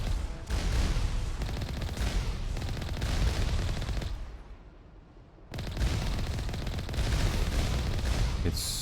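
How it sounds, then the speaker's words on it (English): Video game battle with dense bursts of gunfire and explosions roaring nearly nonstop, loud and close, dipping briefly into a quieter rumble before the barrage resumes. "Fuck off with the explosions."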